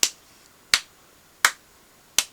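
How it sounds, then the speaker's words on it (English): Four sharp, crisp flamenco hand claps land at a steady, evenly spaced beat, each one snapping close and loud before dying away quickly into near silence. "Now that's the basic flamenco clap, right?"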